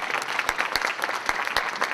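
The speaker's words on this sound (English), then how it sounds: "And can we all give a big round of applause?" Audience applause at a Bastrop, Louisiana mayors forum, honoring the SGA students as they stand: dense, steady clapping from a sizable crowd, with a few sharper individual claps standing out, lasting the full two seconds.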